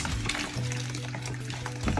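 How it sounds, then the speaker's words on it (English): Rice being stirred in freshly added hot water in a pot while making Nigerian party jollof rice, giving a steady close scraping and swishing with a low hum underneath, no voices. "Stir it."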